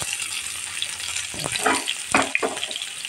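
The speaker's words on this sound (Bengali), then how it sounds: "এই যে আমি এবার বাগার দিয়ে দিচ্ছি।" Cumin, garlic, dried red chili and onion sizzle in hot oil as a tempering for taro leaf greens, giving a steady close hiss with a few louder crackling bursts and no voices.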